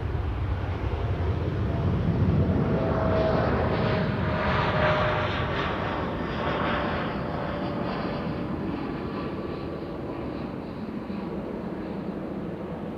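A Boeing 747 airliner at Amsterdam Schiphol Airport gives a steady, broad jet roar that holds fairly loud throughout and eases slightly toward the end, with no voices.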